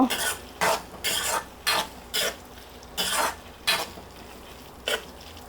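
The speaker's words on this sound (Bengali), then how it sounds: "দেখুন মাছটা একদম বেগুনের সঙ্গে মিশে গিয়েছে হালকা ভাজাও হয়ে গেছে" Eggplant and hilsa fish frying together in a pan while being stirred, with about eight rhythmic bursts of scraping and sizzling separated by short pauses, close and clear.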